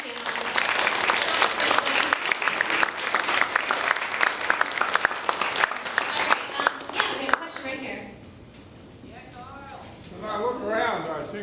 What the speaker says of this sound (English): I just first want to give a round of applause for this amazing panel